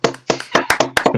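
Several quick hand claps in an uneven burst, close and loud, with voices talking over them on a comedy podcast.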